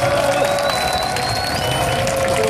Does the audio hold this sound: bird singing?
no